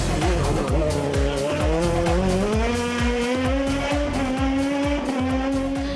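An Osella PA 2000 Honda race car climbing the Monte Erice hill climb course, its high-revving engine rising in pitch through the gears with rapid shifts, loud and close, sustained throughout.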